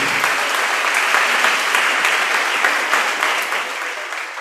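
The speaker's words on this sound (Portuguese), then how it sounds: "Então aplauda ao Senhor" Church congregation clapping in praise during a worship service, dense, lively applause throughout that slowly fades toward the end.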